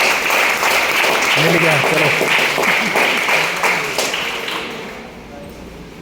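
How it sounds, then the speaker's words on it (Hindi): An audience at an AWPL business plan presentation claps together in a dense burst that slowly fades away, with voices talking over it. "तो जोरदार तालियां दुबई टूर के लिए"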